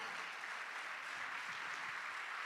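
Church congregation applauding together, a steady continuous wash of clapping at a moderate distance with no talk over it.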